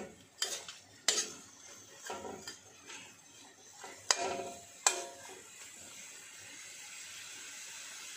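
Pechay stems stirred in a pan with a metal utensil, several sharp scrapes and clinks spaced a second or so apart, faint and close, then quiet sizzling-like hiss with no talk.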